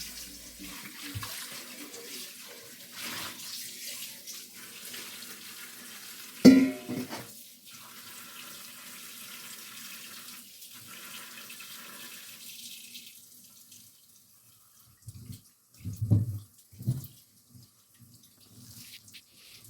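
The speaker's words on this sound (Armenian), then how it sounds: "Հիմա պետք է կարտոֆիլը մաքրեմ և լվանամ։" Tap water runs quietly while potatoes are washed in a sink, a soft steady flow broken by a sharp knock midway and a few louder splashing bursts near the end.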